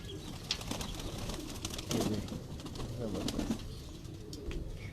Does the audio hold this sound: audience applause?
no